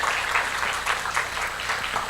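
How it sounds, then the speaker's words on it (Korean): A church congregation applauds steadily during a Sunday service, a continuous patter of many hands clapping at moderate volume. "우리 하나님께 영광의 박수를 한번 올려드리도록 하겠습니다."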